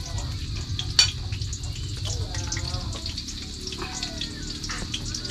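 Onions go into hot oil and sizzle with a steady close crackle. A sharp clink sounds near the start and faint stirring noises follow.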